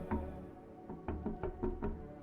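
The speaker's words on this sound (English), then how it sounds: "somebody knocking on the window" Knocking on a window in the video game I'm Not Human, a series of soft, muffled knocks in small clusters over a low droning background.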